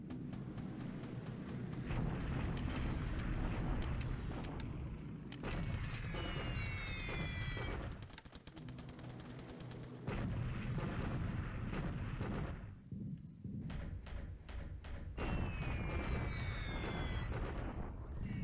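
Bombing explosions in the video game War in the Pacific: AE, a dense, continuous rumble of booms and blasts with whistling tones over it, steady and loud throughout.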